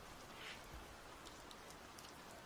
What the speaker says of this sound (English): The rain sound ambience.